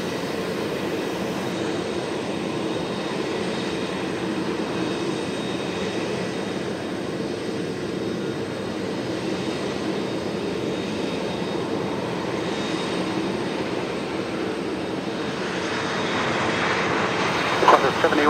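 An airliner lands on runway 03, its engine noise a steady, loud roar that builds slightly toward the end, with no voices over it.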